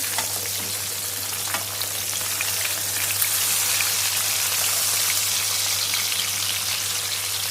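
Masala-coated Vanjaram fish deep frying in hot oil, a steady dense sizzle and crackle with scattered pops, close and continuous without any talk.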